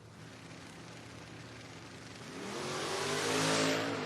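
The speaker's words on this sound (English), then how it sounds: "Great drag race here between Bracuto and Nelson" Drag race cars in a door car bracket class accelerating down the strip, a loud engine roar climbing in pitch as they pass close, swelling and then easing slightly at the end.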